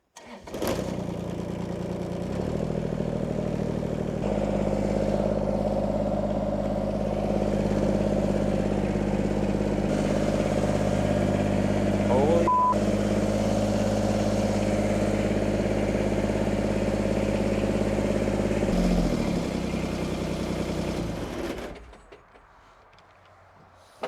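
A hydraulic pump motor on a dump trailer starts and hums steadily for about twenty seconds as the bed is lowered, a loud droning whine with a brief creak midway before it cuts off.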